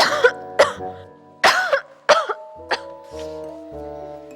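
A series of sharp, close coughs, roughly six in quick succession, the last few weaker and trailing off with a throat-clearing quality.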